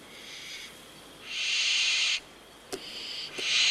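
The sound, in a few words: barn owl calling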